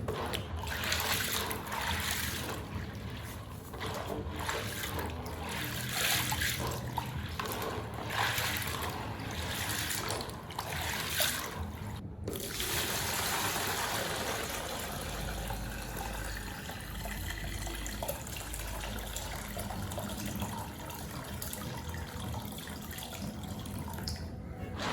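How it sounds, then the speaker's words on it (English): Water poured out and corn washed for akamu, a steady splashing and trickling with brief sloshing bursts, close and fairly faint. "I pour the water away and I'm about to wash it and pour in another water"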